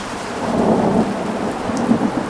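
Rolling thunder from a weak storm over Lake Illawarra, New South Wales, Australia, rumbles low and steady from a distance, swelling and easing under a soft hiss of rain, with no voices.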